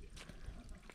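Water trickles softly in an outdoor fountain, a faint, steady wash lasting only a moment, with brief murmurs in the background.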